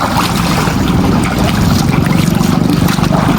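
Water in a farm canal swirls and splashes as feet are washed after fieldwork, a close, loud, steady rushing with wind buffeting the microphone throughout.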